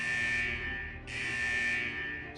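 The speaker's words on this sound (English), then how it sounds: "Is that the central alarm of the vault?" A vault's central alarm in the video game Wuthering Waves blares loud and steady, a harsh buzzing tone that pulses twice with a short dip in between.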